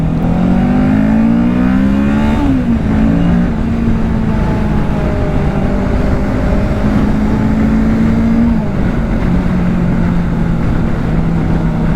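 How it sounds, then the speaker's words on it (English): A 2024 Kawasaki Ninja 650 motorcycle revs hard and accelerates, engine pitch climbing steadily through the gears with brief dips at each shift, loud and close throughout. "It just does not have a problem accelerating."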